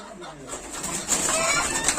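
Fancy pigeons coo softly among other birds at a live auction of ornamental pigeons and chickens, with a murmur of people in the background.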